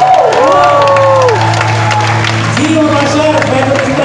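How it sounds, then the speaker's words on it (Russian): Crowd at a dance concert finale cheers and claps loudly, with a shouting announcer's voice and gliding whoops riding over a steady low musical hum. "это отдельные аплодисменты"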